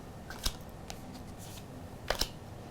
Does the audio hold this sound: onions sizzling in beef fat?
no